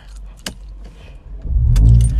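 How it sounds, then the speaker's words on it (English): A car is started with its keys: keys jangle near and loud at the start, then the engine cranks and catches into a loud, steady low idle. "Let's start this car."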